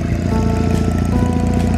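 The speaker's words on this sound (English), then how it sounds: "let it warm up for a quick second, and then I'll give it a couple of revs" A Honda Rebel 250 motorcycle with a custom bobber build and dual exhaust idles close by with a steady, even putter and no voices.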